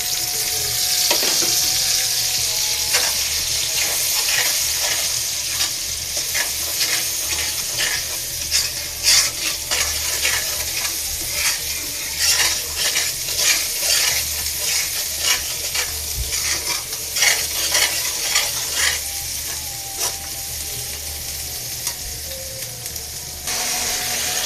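A spice paste of fried onions and masala sizzles in hot oil in a pan while being stirred, a steady close hiss broken by frequent scraping and clinking strokes of the spoon, continuous for a long stretch with no talking.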